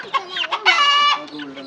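Domestic roosters and hens at a poultry sale, clucking close by with one longer drawn-out call in the middle, a few short calls around it.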